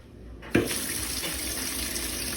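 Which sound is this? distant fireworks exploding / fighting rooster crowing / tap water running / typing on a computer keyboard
tap water running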